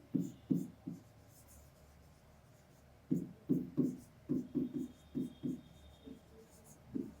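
Marker or chalk writing on a board in a class lesson, a series of short scratchy strokes in two bursts separated by a pause, close and fairly quiet with no talk.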